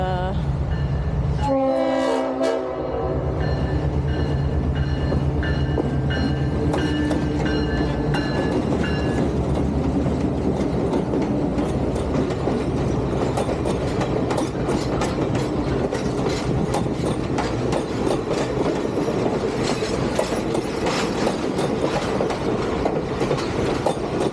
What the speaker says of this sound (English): I could actually hear the train coming for a while